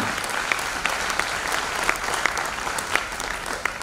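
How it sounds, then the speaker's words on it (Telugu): An audience claps steadily for an honoured guest at an event, a continuous wash of applause with a few sharper individual claps standing out, no voices over it. "ఆయనకి ఇవ్వండి గ్రేట్ క్లాప్."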